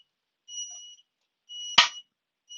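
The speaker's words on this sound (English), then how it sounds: "When the beeping is beeping, that means that it's expecting you to put bills in." Tonal electronic beeps from a SMARTtill TransActPOS cash register till, signalling that it expects bills to be placed in the drawer; three short repeated beeps at moderate level with a sharp click or clunk between them.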